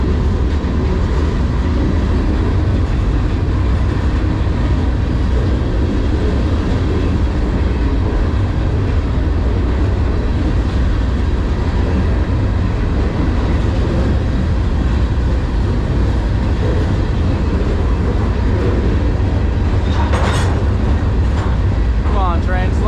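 A freight train rolls along the rails on a ride from Peoria, Illinois toward Clinton, Iowa, a loud, constant rumble and clatter with no letup, heard from on board, with a brief high squeal near the end.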